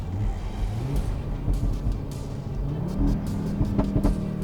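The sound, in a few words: five-cylinder engine through performance exhaust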